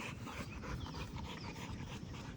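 A dog lying under a tree outdoors pants steadily and rhythmically, close and fairly quiet, with no voices over it.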